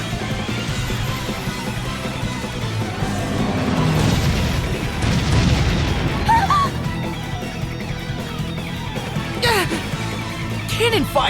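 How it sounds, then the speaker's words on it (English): Cannon fire in the Bravely Default video game: a dense, heavy booming crash with rumbling low end that swells midway, layered under game music and sound effects. "Cannon fire? This is madness!"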